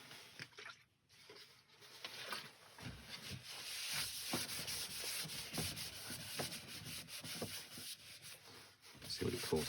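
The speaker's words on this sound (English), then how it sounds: "Now with the isopropyl to clean off any excess grit." A cloth soaked in isopropyl alcohol wipes grit off turned wood, making close, soft, continuous rubbing and scuffing with irregular strokes and faint background noise.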